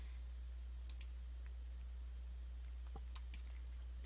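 Several sharp computer mouse clicks sound in a quiet room during a Manjaro Linux installation, scattered singly and in quick pairs over a steady low electrical hum.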